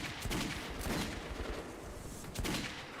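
Gunshots in a shooter video game, a dense continuous barrage of loud, overlapping shots and blasts with no clear gaps, filling the whole stretch with no talk.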